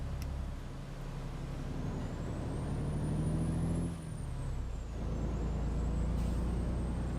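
A heavy truck engine in American Truck Simulator rumbles steadily with a deep, chattering engine-brake growl and valved exhaust drone, rising and falling with a faint high whine overhead.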